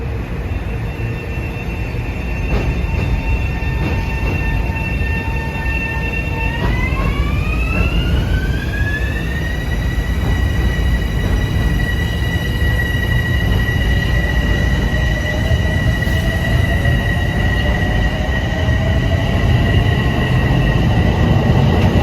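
A Metro-North high-wheeler train bound for Southeast passes steadily and loudly, a continuous rumble of wheels on rails with sustained tonal squeals that bend upward in pitch partway through.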